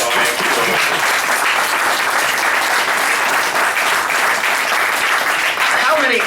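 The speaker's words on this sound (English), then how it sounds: "Can we all get a round of applause for Josiah?" Steady, loud applause from an outdoor crowd at a park party, a dense continuous wash of clapping that holds evenly throughout.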